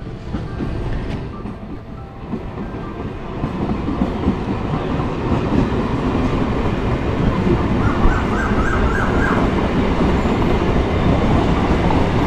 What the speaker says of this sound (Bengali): এই দিক থেকে একটা লোকাল ট্রেন আসছে, মেবি এটা হচ্ছে শান্তিপুর লোকাল হবে